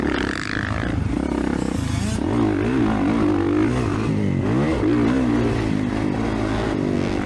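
A 2024 Kawasaki KX450 four-stroke dirt bike at Saturday practice at the Moto541 track: the engine roars loud and close, revving up and down in continuous waves as the rider works the throttle.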